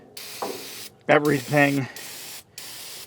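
Aerosol engine degreaser sprayed over a car engine bay in bursts of hissing spray, close by, with brief speech between the bursts.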